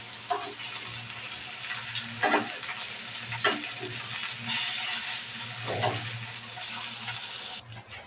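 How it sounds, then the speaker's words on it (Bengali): Steady crackling sizzle of koi fish frying in hot oil, continuous and close, with a few brief louder spatters and stirring clinks. "মাছগুলো আমি হালকা ভেজে নিলাম।"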